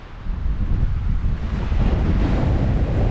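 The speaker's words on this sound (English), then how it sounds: "A little windy," Strong wind buffets the microphone in a steady low roar on a high mountain hike, gusting throughout with no voices heard.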